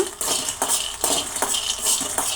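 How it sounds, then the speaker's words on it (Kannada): Peanuts dry roasting in a pan rattle and skitter in a steady rhythm of bright, gritty shakes, close and fairly loud with no talking. "ಮತ್ತೊಂದು ಪಾನನ್ನು ಇಟ್ಕೊಂಡು ಸ್ವಲ್ಪ ಕಡಲೆ ಬೀಜನ ನಾವು ಫ್ರೈ ಮಾಡ್ಕೊಳ್ಳೋಣ"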